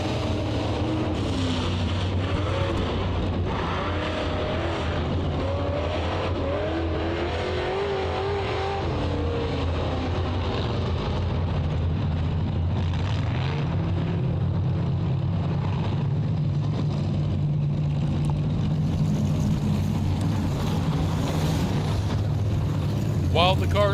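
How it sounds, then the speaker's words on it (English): Race cars circle a 3/8-mile dirt oval at Southern Raceway, their engines making a steady, continuous roar throughout while an announcer talks over the noise. "While the cars circle the track,"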